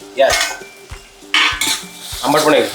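Tomatoes tipped into a pan of dried fish, then a spoon stirring with loud metallic scrapes and clanks in several close, uneven bursts.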